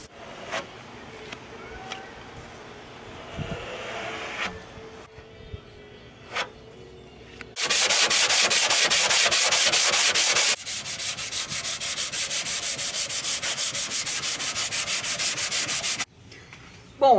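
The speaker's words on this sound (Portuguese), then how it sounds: "aqui a gente está lixando uma massa de poliéster de primeira linha" Rhythmic scratchy sanding strokes on polyester body filler on a 1975 Volkswagen Beetle, growing louder and faster midway, then continuing in steady back-and-forth passes before stopping.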